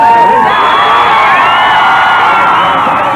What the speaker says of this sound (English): The crowd's biggest welcome came for fast-moving Michael Keaton, who plays the title role in Batman